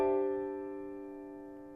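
Left-hand chord voiced in stacked perfect fourths on D, struck once and left to ring, a full, clear sustained chord slowly decaying with nothing else heard.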